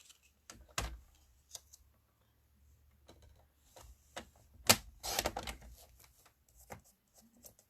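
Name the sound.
stamp trimmer cutting paper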